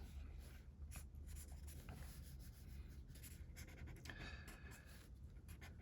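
A cheap Crayola marker scratches and squeaks across paper in quick sketching strokes, faint and close, in irregular bursts with short pauses.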